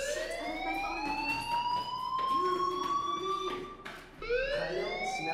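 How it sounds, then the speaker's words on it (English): A school fire alarm in the video game Life Is Strange: a loud rising siren wail that sweeps upward twice in long cycles, with a brief dip between them and no talk. "Hey, do you hear that fire alarm?"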